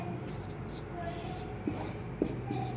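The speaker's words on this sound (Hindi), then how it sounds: "दिखाई नहीं दे रहा है तो दोबारा लिख देता हूँ मैं" Chalk or marker scratching on a board during a maths lesson, with faint strokes and a few sharper taps under low room noise, fairly quiet and close.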